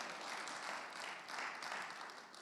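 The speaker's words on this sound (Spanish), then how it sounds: "fuerte ese aplauso" Steady crowd applause fills the whole stretch, a dense wash of many hands clapping at once, fairly distant and even in loudness.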